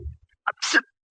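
A quick intake of breath followed by one distinct sneeze, close by and otherwise quiet.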